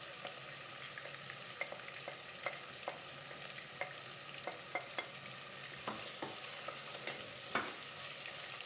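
Thin strips of sliced onion fry with already browned meat for Uzbek plov, a soft steady sizzle with faint stirring clicks and scrapes spread across the whole stretch, no voices.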